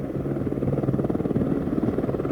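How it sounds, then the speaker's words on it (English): A Hughes YAH-64 Advanced Attack Helicopter in flight gives a loud, steady, close rotor drone with a fast pulsing beat, heard alone without speech. "YAH-64 Advanced Attack Helicopter is a weapon system that can do that job."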